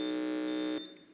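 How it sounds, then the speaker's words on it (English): An electronic quiz contest buzzer is pressed at a school quiz, giving a loud, steady, tonal electronic buzz that holds for almost a second and then cuts off sharply, heard alone without any talk. "Your buzzer sounds okay."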